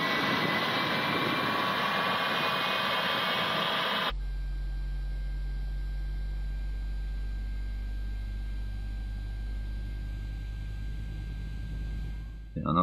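Boeing 777 in a flight simulator game as the first engine starts, broadband cockpit rumble that cuts abruptly to a low steady hum with a thin tone, building slightly toward the end.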